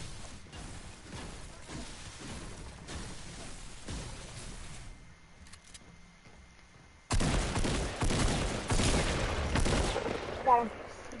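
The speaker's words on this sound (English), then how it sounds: "Get out your shotgun." Shotgun blasts in the video game Fortnite ring out as sharp bursts among scattered gunfire, quieter at first, then a loud dense stretch of firing in the second half, with voices talking over the action.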